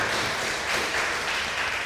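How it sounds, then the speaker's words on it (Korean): A congregation at a Korean church service welcomes visiting members with warm, continuous applause, a dense and even clatter of many hands that stays steady from start to finish. "박수로 환영하겠습니다"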